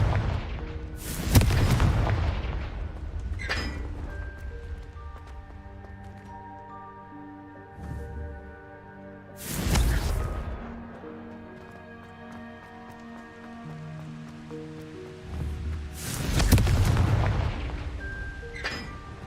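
Confringo blasting spells exploding in Hogwarts Legacy, three heavy booming blasts spaced several seconds apart, each followed by a lingering shimmering magical tone and swelling background music.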